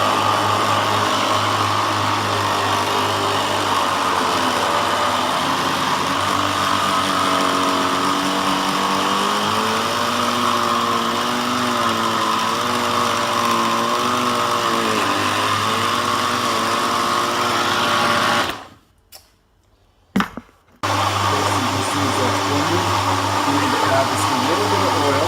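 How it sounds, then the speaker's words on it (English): A blender whirring loudly and steadily through thick chocolate cauliflower cake batter, its motor pitch wavering as the load shifts, then cutting out abruptly near the end with a brief restart. "push it down so that it blends better, but it will all blend"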